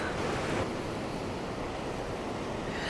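Stormy sea waves at Cala San Vicente on Mallorca, a constant roaring wash of surf with wind buffeting the microphone, loud and continuous throughout with no voices.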